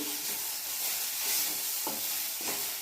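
Food fries in an iron wok with a steady loud sizzle and hiss, as a spoon stirs it with a few soft scraping strokes.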